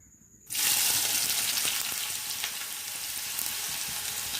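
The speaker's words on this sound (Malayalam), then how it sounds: "സവാള നല്ലതുപോലെ വഴറ്റിയെടുക്കാം നല്ലതുപോലെ വഴറ്റി" Onion drops into hot coconut oil and sets off a sudden loud, dense sizzle that stays steady and close for several seconds.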